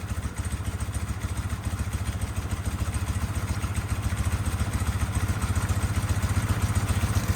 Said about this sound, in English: Now my idle's picking up a little bit, so it's a little higher than I want to.